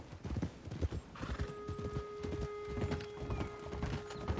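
Horse hooves clip-clop in an uneven rhythm while a horse whinnies with a long high neigh, fairly close and moderately loud, in the video game Red Dead Redemption II.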